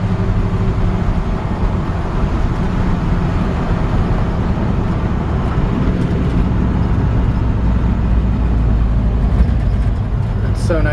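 A 1956 Chevy 3100 pickup with a 350 V8 and automatic transmission drives down the road, a steady loud engine drone and road rumble continuing throughout.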